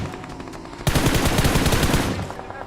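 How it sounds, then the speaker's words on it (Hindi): A sudden burst of rapid automatic gunfire, loud and close, with dense overlapping shots rattling on for nearly two seconds. "पीछे भी गोली चलती है"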